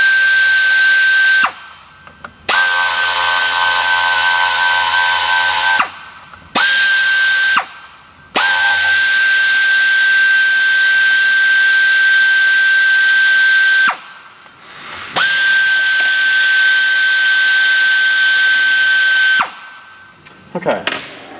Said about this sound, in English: Now we got the bolts removed from the secondary.